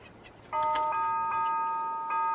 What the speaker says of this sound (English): Try the doorbell.